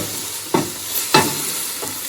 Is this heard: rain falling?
no